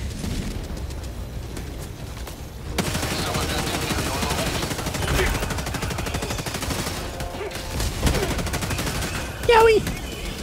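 Dense, sustained automatic gunfire in Helldivers 2 rattles almost continuously over heavy battle rumble and booms, with a voice talking over the shooting.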